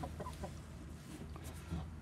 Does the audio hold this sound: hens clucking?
yes